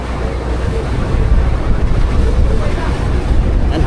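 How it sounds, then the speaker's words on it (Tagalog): Strong monsoon wind at sea buffeting a boat on the Pacific, a loud rushing roar with heavy wind noise against the microphone and churning water, continuous throughout. "Yan, habagat ng hangin, oh."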